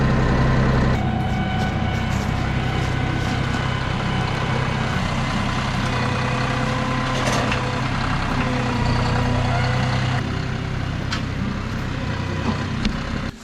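A tractor fitted with a 3-point quick hitch and chains idles close by, outdoors in cold-weather conditions, with a steady, loud low engine drone that holds throughout without any speech.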